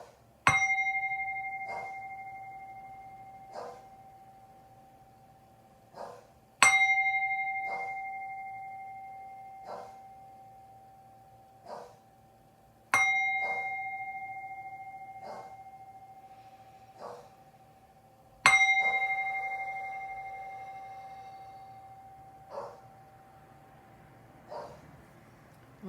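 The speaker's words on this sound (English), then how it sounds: "let's go ahead and check in with the singing bowl" A singing bowl struck four times at steady intervals, each strike ringing out with a long, clear, slowly fading tone, with softer taps between strikes and a faint background of low hum.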